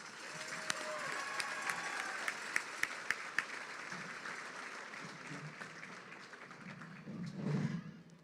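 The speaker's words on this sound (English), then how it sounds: "if you would give a round of applause for everybody that's shown here all week" A crowd at a livestock and project show auction applauds the week's exhibitors, a fairly faint, steady patter of clapping with a few sharper claps standing out, swelling briefly near the end.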